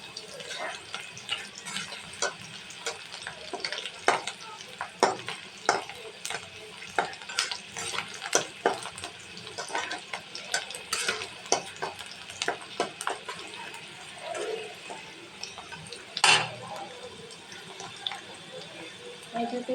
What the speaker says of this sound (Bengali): এখন পেঁয়াজটাকে আমি ভালোভাবে একটু ভেজে নেব।